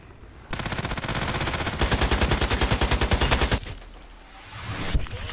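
Rapid bursts of sniper and automatic gunfire in a shooter game, loud and dense, a steady rattling volley running for about three seconds before cutting off, with quieter game ambience on either side.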